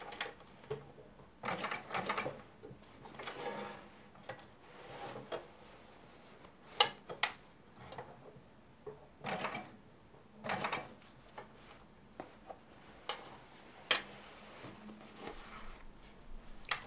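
Bursts of rapid mechanical stitching from a sewing machine sewing a buttonhole in heavy denim, starting and stopping repeatedly, quiet and close, with pauses between runs.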